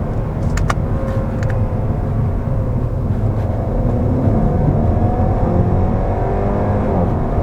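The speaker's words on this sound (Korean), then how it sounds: "변속을 들어갔을 때 뒤에서 팍 이렇게 터지는 소리가 나는 것 같은데" A 5th-generation Audi A4 40 TFSI engine drones steadily from inside the cabin, with a few sharp crackling pops from the exhaust early on during a gear shift.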